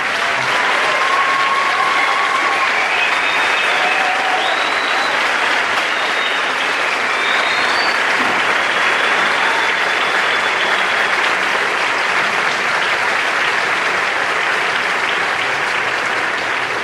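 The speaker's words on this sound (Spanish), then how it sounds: "Así que un aplauso para todo el panel." An audience applauds a panel at the Universidad Nacional de Salta, with dense, steady clapping that carries on loud and unbroken throughout.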